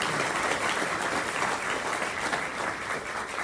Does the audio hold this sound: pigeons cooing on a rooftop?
no